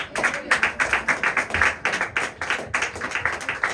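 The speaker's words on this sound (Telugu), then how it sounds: "దేవుడు చేసిన మహిమను బట్టి దేవుడికి చప్పట్లు కొడదామా?" A church audience clapping together in a steady, even rhythm, close and fairly loud, about two claps per second with no talking over it.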